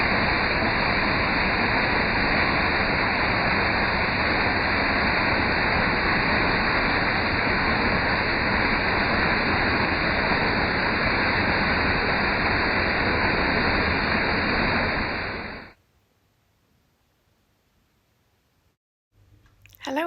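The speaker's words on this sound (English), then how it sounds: "Who doesn't love a slow-mo of a waterfall?" The Nant y Ffrith waterfall, recorded in slow motion, makes a loud, dense, continuous rushing roar for about fifteen seconds before cutting to near silence.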